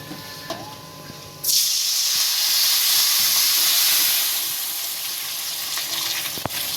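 Lemon juice hits a hot pan for lemon rice, bursting into a loud sudden sizzle and steamy hiss that gradually settles, with a few light utensil clinks.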